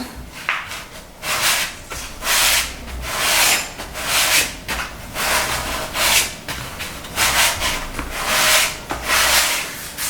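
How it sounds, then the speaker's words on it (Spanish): Grey cardboard is sanded with sandpaper wrapped around a block, giving steady rhythmic rasping strokes, each a dry scrape, repeating closely and evenly with no talking. "Vamos a agarrar la lija, envolvemos nuestro taco"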